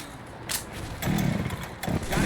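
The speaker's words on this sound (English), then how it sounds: "Got a chainsaw." A chainsaw in the video game Left 4 Dead 2 revs in short bursts, a rough buzzing roar that cuts in and out over game noise.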